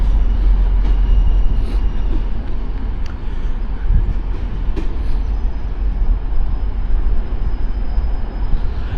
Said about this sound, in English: This is a Transpennine Express train.